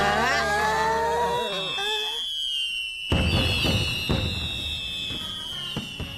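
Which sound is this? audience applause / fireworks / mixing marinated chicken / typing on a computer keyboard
fireworks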